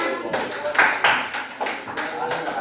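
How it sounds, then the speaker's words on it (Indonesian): High school classroom students clapping for a group, a short patter of scattered claps and taps rising and falling unevenly, fairly close, with some talk mixed in. "Dan kasih tepuk tangan dong untuk kelompok 5-nya."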